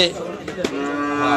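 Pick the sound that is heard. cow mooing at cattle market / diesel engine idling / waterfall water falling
cow mooing at cattle market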